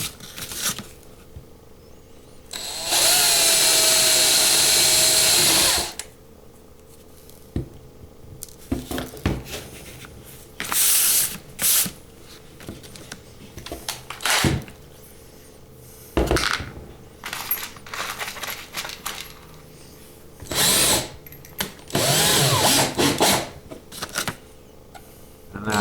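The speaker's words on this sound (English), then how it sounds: "And then I drilled out the cap." A drill bores out the rivet post of a die-cast Matchbox Porsche 911 Turbo, in a loud sustained burst near the start and several shorter bursts later, separated by quieter handling clatter.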